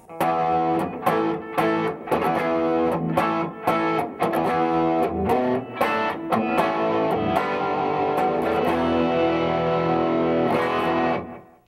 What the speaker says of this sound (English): Here's a little overdrive with a little bit of delay.